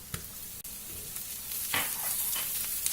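Ginger garlic paste sizzles and fries in a pan after golden onions, with a soft steady crackle and a few sharper spatters and stirring scrapes close by.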